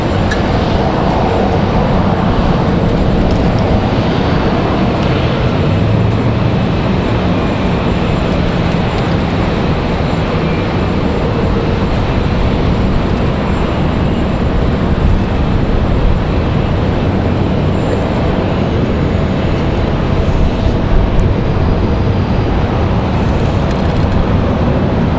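A Southwest airliner at Raleigh-Durham International Airport gives a steady, broad roar of engine noise that holds loud and constant throughout, with no talk.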